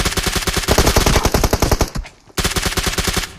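Sustained rapid automatic gunfire from a shooter video game, loud and close, with a brief pause near the two-second mark before the burst resumes.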